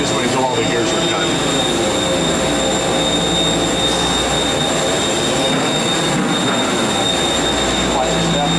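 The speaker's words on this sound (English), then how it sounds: "it moves forward this way, and then these rotate this way until all the gears are cut" A gear cutting machine works a dozen parts in a small factory making lathes and tools, a loud continuous grinding whir with steady high whines running throughout while a voice talks over it.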